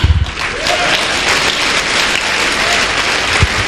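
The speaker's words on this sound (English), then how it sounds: "Clap." Audience applause at a leadership speech, a dense burst of many hands clapping together, loud and sustained for a few seconds.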